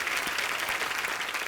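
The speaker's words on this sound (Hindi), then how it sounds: "आप सबकी जोरदार तालियों के बीच मैं इनवाइट करना चाहूंगा" A studio audience claps continuously to welcome a singer onto a comedy talk show stage, a dense, even patter of many hands with no voices standing out.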